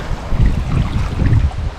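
Blustery seaside wind on the Black Sea coast at Lazarevskoye, buffeting the microphone in loud, rumbling low gusts with no talk.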